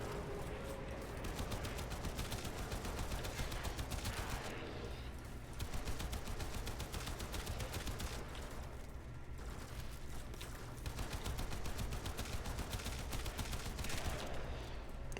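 Rapid, continuous gunfire from a Mark 1 weapon in the video game Warframe rattles without pause as dense bursts for the whole stretch, with only brief dips in intensity.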